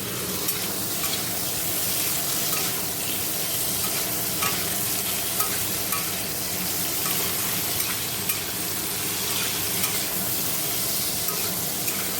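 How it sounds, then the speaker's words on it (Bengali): Pointed gourd frying in hot oil in a wok, a steady dense sizzle and crackle running throughout with faint stirring scrapes, close and continuous, no voices. "আগে কড়াইতে তেল দিয়ে পটলটা ভেজে নিচ্ছি"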